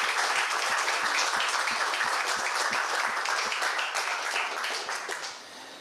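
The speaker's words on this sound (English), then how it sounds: "I want to give all of them a round of applause for showing up and doing everything they did." An audience at a radio club meeting claps together in a dense, steady burst that fades slightly toward the end, heard at a moderate distance in a room.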